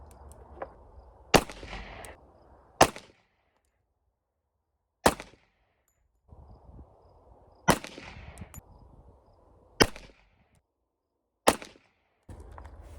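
A budget 1911 .45 ACP pistol fires semi-wadcutter rounds: about seven sharp, loud reports at irregular intervals, each with a short ringing decay and quiet gaps between, and no talking.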